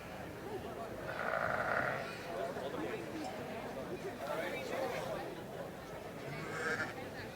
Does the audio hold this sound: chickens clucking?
no